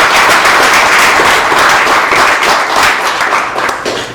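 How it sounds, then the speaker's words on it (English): A large audience at a speech gives loud, dense applause that fills the room without a break, the clapping slightly easing toward the close. "Please, give her a round of applause."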